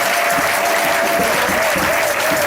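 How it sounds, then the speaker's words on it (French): A church congregation bursts into dense, sustained applause at a sermon, loud and close, many hands clapping together with faint voices mixed in. "Applaudissons le Seigneur."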